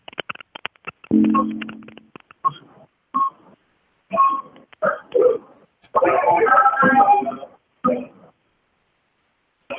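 A telephone keypad beeps out dialing tones to rejoin a call, starting with one clear tone burst. Scattered clicks, rustles and voices follow.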